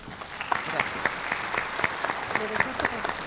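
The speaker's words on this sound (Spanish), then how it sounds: "Les pido un fuerte aplauso para nuestros profesores." An audience in a medical conference hall on bariatric surgery applauds professors, with steady clapping and scattered sharper claps throughout, and a voice is faintly heard under it.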